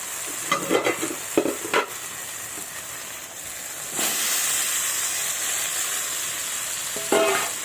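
Bottle gourd and potato stirred into spices frying in a pan, with scraping spatula strokes at first, then a steady hiss and sizzle of the spiced mixture, and another burst of stirring near the end.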